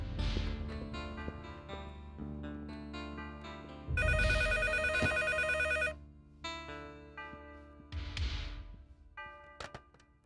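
Telephone ringing in a telenovela office scene, repeated electronic ring bursts in a steady pattern, fairly loud and close, with no talk over it.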